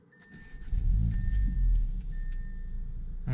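A lowered Audi S3 with a 2-litre turbocharged four-cylinder engine and Quattro all-wheel drive rumbles steadily while driving, a low, even drone heard from close by with faint tonal beeps over it.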